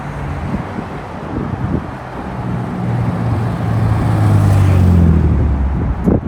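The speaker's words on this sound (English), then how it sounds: "as we put the car into sport mode, we hear the exhaust valves open up a little bit" A Bentley Bentayga Speed W12 engine rumbles low and steady, the exhaust note rising and growing louder toward the end as exhaust valves open in sport mode, with some wind noise over the microphone.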